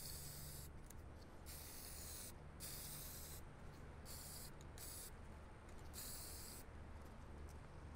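Wolf Gray primer sprayed from an aerosol can onto miniatures comes as a series of steady hissing bursts, several seconds each, separated by short pauses.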